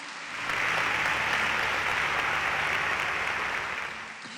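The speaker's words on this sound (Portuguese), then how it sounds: "Uma salva de palmas para Jesus." A church congregation breaks into applause, a dense steady wash of clapping that swells in, holds for a few seconds and fades away.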